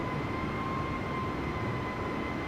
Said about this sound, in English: let's go ahead and taxi to the departure